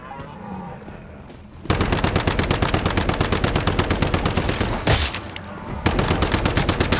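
A rapid, loud machine-gun stream rattles in the video game Once Human, starting abruptly after a quiet moment and continuing in steady fast bursts with a brief break near the end, with no talk.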